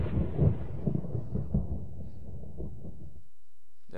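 A video game thunderstorm rumbles loud and close, with a deep roll of thunder and rain hiss that fades out and then cuts off abruptly.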